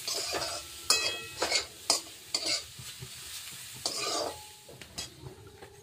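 Vegetables stir-fried for hakka noodles, a loud close sizzle broken by repeated scraping and tossing strokes of a spatula in an uneven rhythm, with light clinks against the pan.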